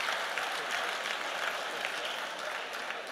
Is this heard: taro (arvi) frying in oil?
no